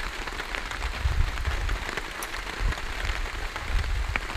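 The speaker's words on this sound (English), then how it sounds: "it was quite a wet and rainy time" Rain falls steadily at a wet campsite, a dense, even patter of drops striking surfaces with occasional louder splats, close and continuous.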